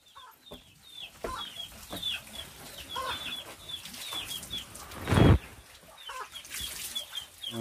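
Hens cluck and chatter on and off throughout, with scattered short calls, a brief louder flurry midway, and faint background noise.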